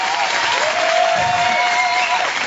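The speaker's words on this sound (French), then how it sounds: "applaudissements pour eux" Steady applause from a concert audience for a French boys' choir, with a voice heard faintly over the dense clapping.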